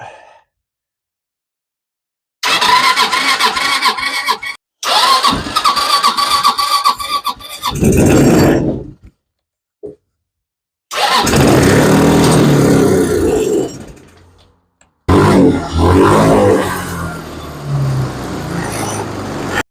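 With the choke pulled, a Chinese knock-off Viva ATV fitted with a swapped knock-off carburetor is cranked several times. Loud bursts of starting and revving are broken by short silences before the engine catches and runs roughly.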